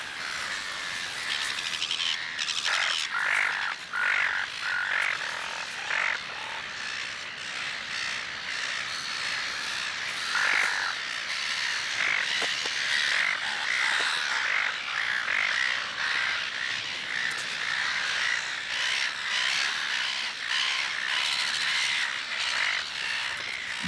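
Gulls squawk and cry continuously and loudly while mobbing a tiger snake at their nesting ground, a dense, harsh chorus of overlapping calls close by.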